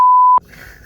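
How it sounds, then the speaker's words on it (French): A single censor beep: a pure, steady electronic tone lasting under half a second, loud and alone, cutting off abruptly into faint background hiss. "je mettrai un bip pour t'embêter"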